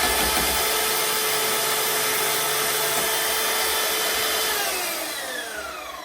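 A power saw cuts round pieces of stag antler with a loud, steady, close whine that winds down near the end.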